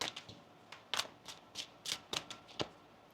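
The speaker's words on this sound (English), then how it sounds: "One more shuffle here, please" Tarot cards being shuffled by hand in a series of quick riffling bursts, about eight or nine crisp papery flutters spaced irregularly, close and fairly quiet with no talking.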